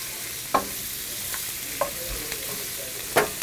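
Garlic and lemon juice cook in a pan, a low steady sizzle broken by several sharp scraping clinks of a utensil against the pan at irregular moments, heard up close with no talking.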